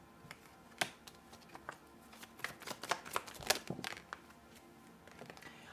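Tarot cards being shuffled close up, with rapid, quiet riffling and snapping bursts that grow busier midway and then trail off, without any talking.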